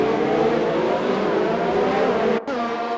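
Race car engine from an Italy round of a racing video game, a McLaren missing its braking point: steady loud engine roar with layered motors throughout, cutting out briefly near the end before resuming.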